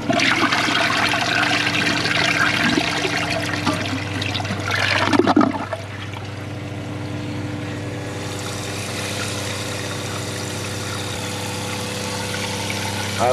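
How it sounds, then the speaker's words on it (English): A 2003 Crane Galaxy Elite toilet with a front flush handle flushes with a loud rushing swirl of water for about five seconds, then settles into a steady, quieter refill hiss that carries on to the end. "Here's another flush,"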